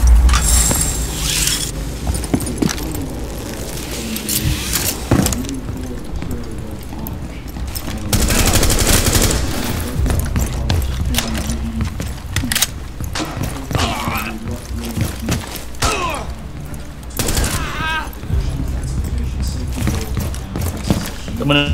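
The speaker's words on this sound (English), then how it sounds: "Someone else is shooting him." Gunfire from the video game Rainbow Six Siege comes in repeated loud bursts and rapid volleys, with players talking over the shooting.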